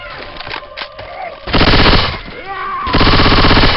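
Machine gun fire in the Left 4 Dead 2 zombie shooter, loud sustained rapid bursts close up, mixed with game effects and shouted character callouts between volleys.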